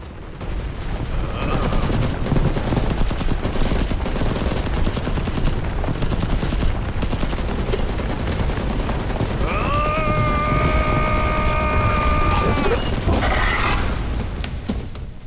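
Rapid bursts of video game automatic gunfire crackle nonstop, with a few heavier booms and a brief electronic whine partway through.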